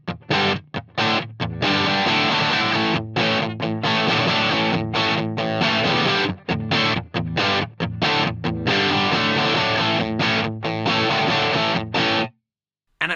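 Marshall DSL amp on the green channel in crunch mode, gain and volume at midpoint, presence off, giving light crunchy distorted guitar chords with fast attack, played loud in choppy rhythmic bursts with brief gaps, alone and ending in a short silence.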